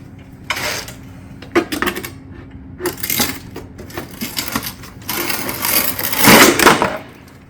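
Metal roofing tile panel being cut on a metal cutter, with a close series of irregular metallic crunching and clanking bursts that grow denser and louder toward the end.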